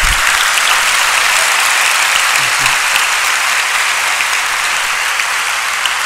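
Loud, sustained applause fills the hall at a memorial gathering, a dense, even wash of clapping from a large audience from start to finish.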